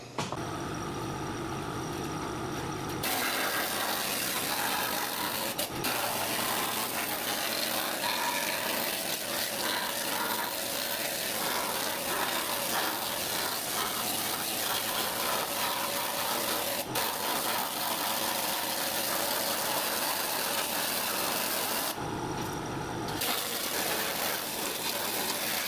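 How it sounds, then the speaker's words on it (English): An air compressor runs in a garage during 1968 Dodge Dart restoration work. After a short quiet start it gives a loud, steady motor drone that dips briefly near the end, then carries on. "I had to wait for the compressor to shut off so I could show the end game."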